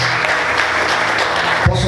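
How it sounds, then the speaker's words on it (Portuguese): Congregation applauding loudly in a church service, a dense steady wash of clapping that runs throughout and swells briefly near the end. "Aplauda o Senhor bem forte."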